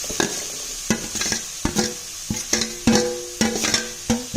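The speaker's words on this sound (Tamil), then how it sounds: "இப்போ நான் சொரக்காயை சேர்த்துறேன்." Bottle gourd being stir-fried in a pan gives a close, bright sizzle. A utensil knocks and scrapes against the metal in an uneven rhythm, and nobody speaks.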